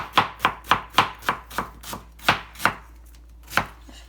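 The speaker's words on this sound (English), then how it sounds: "Again, we're going to kind of cut in half. We're going to slice." Knife chopping through halved onions on a cutting board for guacamole, a run of about a dozen crisp, evenly spaced close strokes that slow and thin out toward the end.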